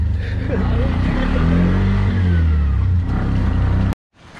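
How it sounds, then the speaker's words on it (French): A tuk-tuk's small engine revs loudly and steadily up close for about four seconds, its pitch rising and falling before it cuts off abruptly, with some voices mixed into the drone. "I take a tuk-tuk."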